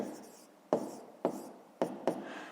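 A pen writes a maths equation on paper, making four distinct scratchy strokes with soft rubbing between them, close and quiet, with no talk.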